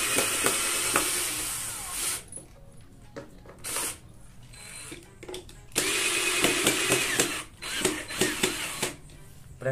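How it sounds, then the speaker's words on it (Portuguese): Screws driven out of a wooden workbench with a power drill or driver, several whirring bursts of a few seconds each separated by quieter pauses, close and fairly loud. "Eu preciso retirar esses parafusos aqui outra vez. Então vamos retirar esses parafusos."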